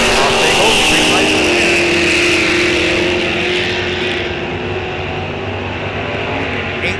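Drag race launch of a 1971 Camaro and a Ford Mustang at Rock Falls Raceway, a loud sustained engine roar that fades slightly as the cars pull away, with a track announcer talking over it.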